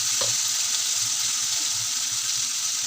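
Tamarind juice and puliyogare powder with curry leaves sizzle in a pan as a steady, bright, hissing fry, close and constant, with a few faint low knocks beneath.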